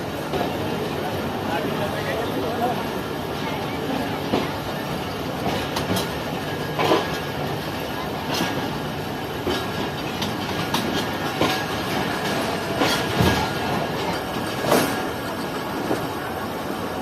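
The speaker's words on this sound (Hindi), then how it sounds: "तो रावलपिंडी का प्लेटफॉर्म 5 छोड़ दिया है ट्रेन ने।" A train pulls out of platform 5 at Rawalpindi station, wheels clicking rhythmically over rail joints with occasional squeals, a steady rumbling clatter heard from on board.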